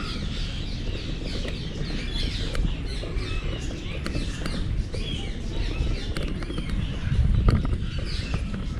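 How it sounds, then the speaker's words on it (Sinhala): Birds calling and chirping around a bird sanctuary in Tamil Nadu, India, a busy layered chorus of squawks and tweets over steady outdoor background noise throughout. "දෙකටම එන්නේ කුරුල්ලෝ"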